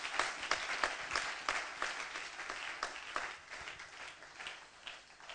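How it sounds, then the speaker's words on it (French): Applause from a church congregation after a sermon, a steady wash of many hands clapping at moderate distance for several seconds, fairly faint with no voices on top. "Est-ce qu'on peut acclamer ce message?"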